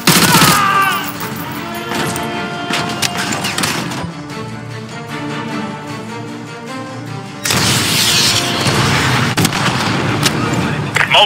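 Missile launch and explosions in Call of Duty Modern Warfare 2: dense loud gunfire and booming blasts rumble continuously, easing in the middle and surging again near the end, with voices talking over the battle.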